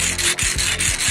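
A manual one-way hand drill with a 1.0 mm bit on a 2.35 mm shaft bores through a 1.5 mm thick aluminum coin, giving a steady close scraping, grinding rasp with brief rhythmic dips as the cutting strokes repeat.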